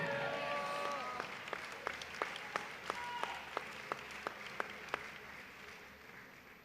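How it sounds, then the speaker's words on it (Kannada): A church congregation clapping in answer to a preacher, a thin, distant round of applause with sharp single claps standing out at regular intervals, quiet throughout. "ಅಂಥವರು ಯಾರಾದರೂ ಇದ್ದರೆ ನಿಮಗೆ ನೀವೇ ಚಪ್ಪಾಳೆಯನ್ನು ತಟ್ಕೊಳ್ರಿ"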